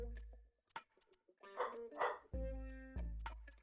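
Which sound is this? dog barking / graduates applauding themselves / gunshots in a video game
dog barking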